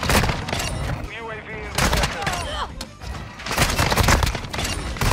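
Gunfire from a KV Broadside semi-automatic shotgun in the video game Modern Warfare 2, heard as repeated loud booming blasts in bursts, mixed with other game sounds and talk.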